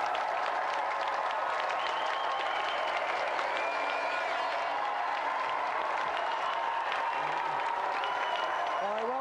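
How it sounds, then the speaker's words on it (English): A studio audience applauds steadily for a volunteer being called down on the Gamesmaster TV show, dense clapping sustained throughout at a fairly even level. "give a round of applause for our volunteer"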